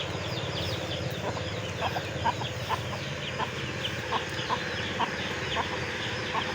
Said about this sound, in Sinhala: මෙන්න බ්‍රාහ්ම පැටව සෙට් එකේ ඉන්න යාළුවනේ.